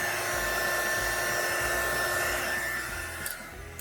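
A heat tool warms epoxy on a galaxy tumbler, blowing a constant close whine-and-rush of air with a high steady tone, easing slightly near the end, with no talk over it.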